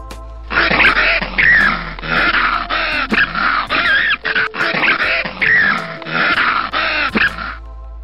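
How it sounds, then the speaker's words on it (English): Fox calling in a continuous run of harsh, raspy yelps and screams, loud and close, lasting several seconds with brief breaks. "This is fox. Foxes are very clever."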